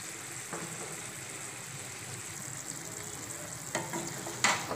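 Dahi parwal with ghee stirred in a pan, a soft steady sizzle with occasional scraping clinks of the spoon, quiet and close, with no voices.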